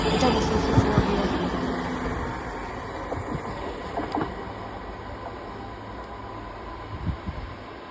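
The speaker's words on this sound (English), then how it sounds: "This is the service from Helensburgh Central to Edinburgh Waverley." A passenger train runs through Cardross station on the Helensburgh Central to Edinburgh Waverley line, a moderate rumble and wheel clatter with occasional knocks, heard at middle distance in open air.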